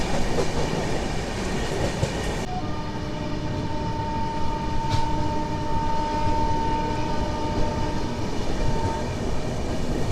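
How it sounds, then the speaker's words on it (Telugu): The Charminar SF Express, on its run from Chennai Beach to Hyderabad, rolls around a curve with a continuous loud rumble, rhythmic clickety-clack of the wheels and thin, sustained squealing from the wheels in the bend. "మన ట్రైన్ వచ్చేసి ఒక బ్యూటిఫుల్ హాఫ్ సర్కిల్ అయితే కొడతాం చూడండి"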